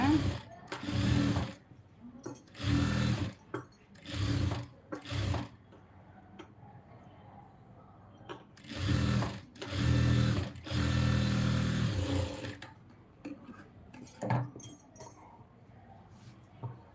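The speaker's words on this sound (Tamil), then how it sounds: "அந்த எஜ்ஜில் வந்து தையல் போட்டு எடுத்துக்கலாம்" A sewing machine stitches along the edge of a blouse lining in close, loud mechanical bursts of rapid whirring, separated by quiet pauses.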